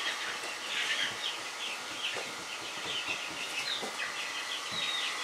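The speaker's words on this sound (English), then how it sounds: "those chickens are noisy" Several chickens cluck and chatter steadily at a moderate distance near a garage, their calls overlapping in a busy, continuous stream with no one talking.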